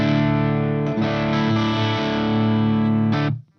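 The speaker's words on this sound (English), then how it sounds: "Let's move on to 1B, which is probably a slightly more British-like clean channel." Electric guitar played through a Hughes & Kettner TriAmp Mark 3 amp on channel 1B, a slightly gritty British-style clean tone; sustained chords with several changes, loud and close with no talk.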